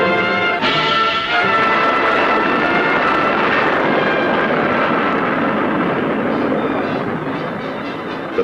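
A Firebee target drone jet in flight over a USAF weapons meet in 1965, a loud, continuous roaring engine drone that holds steady throughout with no talk over it.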